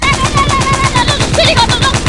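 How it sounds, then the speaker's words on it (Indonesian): Rapid automatic gunfire in a shooter video game, fired at an enemy, bursts repeating steadily throughout the short stretch with game music or effects layered over it. "Ada Tung Sahur Cil, tembak Cil"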